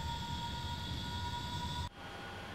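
Steady whine and roar of a simulated Hawker Hunter jet engine in Microsoft Flight Simulator 2020, holding a high tone under a broad rumble, then abruptly cutting to a quieter hum near the end.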